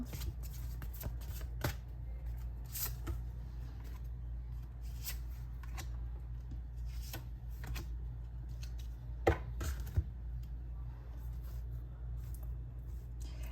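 A tarot card deck is shuffled close up, producing repeated crisp riffling bursts and soft card slaps in irregular rhythm over a low steady hum, with no speech.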